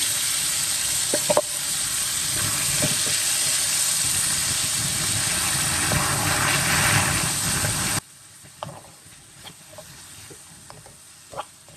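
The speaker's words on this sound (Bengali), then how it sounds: "পেঁয়াজ হালকা ভাজা হয়ে গিয়েছে, এখন আমি এক সাইড করে দিচ্ছি পেঁয়াজগুলো।" Onions, tomatoes and green chilies fry in a pan with a loud, continuous sizzle for about eight seconds, then drop to a quieter hiss broken by occasional utensil clicks.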